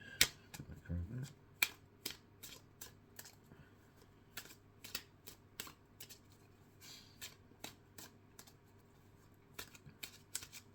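Tarot cards being handled and slipped back into a deck, giving a string of short, crisp snaps and shuffles spread across the stretch, close and fairly quiet, with a brief low murmur near the start.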